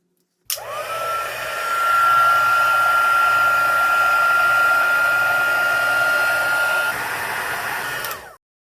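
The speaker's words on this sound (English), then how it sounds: "We will use our heat gun again." A heat gun blows steadily on a stamped slimline card for about eight seconds, a loud close whooshing roar with a faint whine that drops slightly near the end before cutting off.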